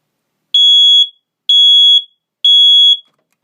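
Smoke detector alarm sounding three loud, piercing electronic beeps in a steady rhythm, each about half a second long with short silences between, close and alone.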